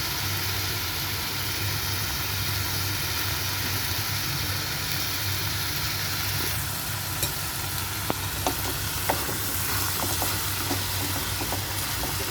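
Spare ribs and French beans with chili stir-frying in a pan, a steady loud sizzle throughout with a few sharp clicks and stirring knocks toward the end, no voices.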